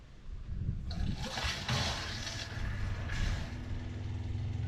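A camper van's freshwater pump releases pressure and kicks back on, a close hissing rush of water with a couple of stronger surges, then a low steady motor hum.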